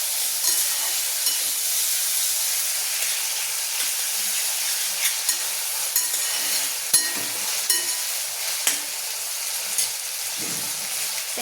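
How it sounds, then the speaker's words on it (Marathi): Tomatoes and onion sauté in a hot pan for paneer pulao, giving a steady, close, hissing sizzle with occasional soft stirring scrapes and pops throughout. "टमाटा, आता याला छान परतू द्यायचं"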